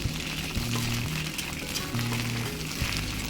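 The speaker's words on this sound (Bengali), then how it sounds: "তো দিয়ে দিলাম কেটে রাখা ফুলকপিগুলো এবার এগুলোকে একটু তেলের সাথে নাড়িয়ে নিতে হবে" Cut cauliflower fries in hot oil with a continuous, even sizzle and a low steady hum underneath, at close range.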